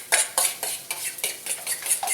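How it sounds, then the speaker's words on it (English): A utensil beats eggs for a frittata in a bowl with a quick, regular run of about nine clinking strokes, each a bright tap against the side, close and alone. "I'm just mixing everything together."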